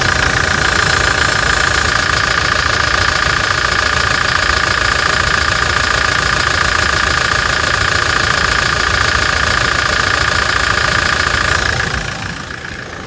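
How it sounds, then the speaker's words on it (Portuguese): A Toyota Hilux engine idles steadily and loudly up close with an even, rumbling diesel knock, holding constant for about twelve seconds before dropping off slightly at the end. "Vamos escutar só a lenta dela agora aqui."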